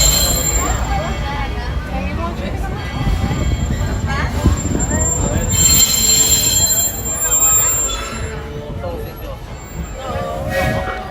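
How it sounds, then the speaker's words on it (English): Walt Disney World Railroad train pulling into Main Street Station at Magic Kingdom, with a steady low rumble and high wheel squeal over crowd noise and people talking nearby. "please stay seated until the train comes to a full and complete stop"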